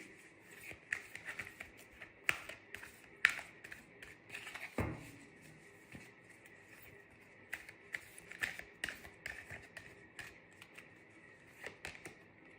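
Oracle cards being shuffled by hand make quiet, irregular papery flicks and soft taps, with one sharper knock midway, close and faint with no talking.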